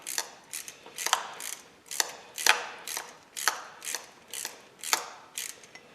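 A ratchet clicks in short, even bursts while tightening 10 mm bolts on a car engine, about a dozen close, crisp strokes with brief pauses between them.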